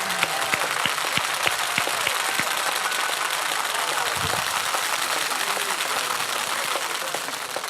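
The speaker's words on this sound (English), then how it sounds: "give yourselves a round of applause" A large audience applauds and cheers at a motivational talk, dense sustained clapping filling the whole stretch at steady loudness with scattered whoops.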